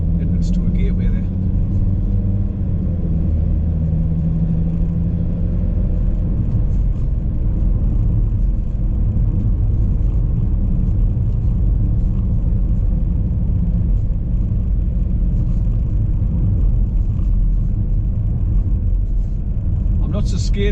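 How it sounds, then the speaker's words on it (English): Volvo XC90 4x4 driving along a road, a steady low engine and tyre rumble with a constant whir running the whole time beneath a person talking. "I've got a 4x4 now, driving this XC90"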